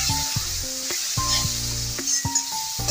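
Spice paste of coriander powder and red chilli powder with a little water sautés in a pan, a steady close sizzle with repeated stirring scrapes, and a faint background tone running beneath.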